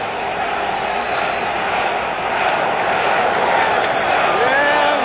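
A crowd at a 1976 ALCS baseball game between Kansas City and New York makes a dense, continuous roar that swells slightly toward the end, heard through a narrow old broadcast sound.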